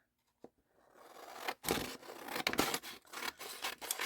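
Scissors cut down a sheet of paper for a collage in a quiet room, a run of close, crisp snipping and rustling strokes after a short silence.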